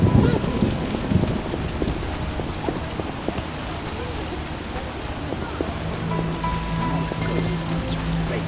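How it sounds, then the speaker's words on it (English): Steady rain patters and hisses across surfaces in the video game The Witcher, a constant dense wash of droplets with a low rumble underneath. "It'll rain through tomorrow."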